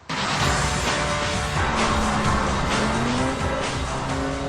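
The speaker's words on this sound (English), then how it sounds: "I love the sound of its Super Trick engine." A BMW 335i coupe's turbocharged straight-six engine, loud and close, with a steady driving roar, rising tonal whine and faint tire squeal throughout.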